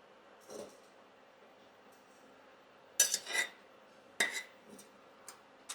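Mustard seeds pop in a hot pan: a few scattered sharp crackles and ticks come in small clusters over a quiet background, close but faint, with no talk.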